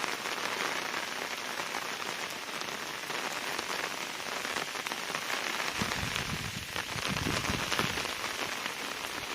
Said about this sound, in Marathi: मुसळधार पाऊस आहे